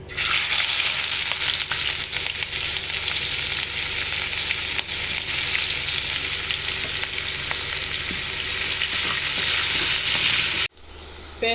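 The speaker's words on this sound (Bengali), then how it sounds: "এই পাতিলে পেঁয়াজ দিয়ে দিলাম" Onions frying in oil in a cooking pot, oil left over from frying snakehead fish: an intense, steady hissing sizzle filling the whole stretch, close and loud, cutting off abruptly near the end.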